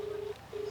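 A telephone gives a steady electronic tone that breaks off briefly and resumes, heard clearly with no voices over it.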